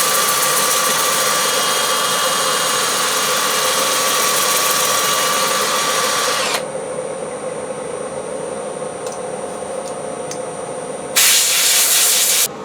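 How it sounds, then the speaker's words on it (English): Loud, steady whirring hiss of a power sander with 80-grit paper on a wooden bowl close by, its pitch shifting partway through, then a brighter burst near the end. "I'm just going to power sand at 80 grit over the whole thing."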